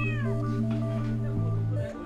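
A street cat meows repeatedly, with several drawn-out, wavering cries close to the listener, loud and clear with no one talking.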